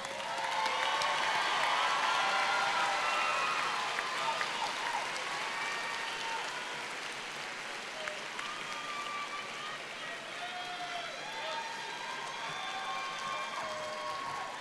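Graduation audience at an associate degree and certificate ceremony applauding honor graduates as they stand, a sustained, fairly loud roar of many hands clapping with some cheering mixed in, holding steady throughout.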